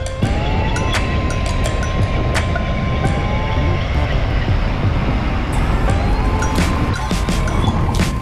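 A train rumbles past beside a busy Hong Kong road near a roundabout, a loud continuous roar with faint squealing tones, heard up close from a bicycle amid traffic noise.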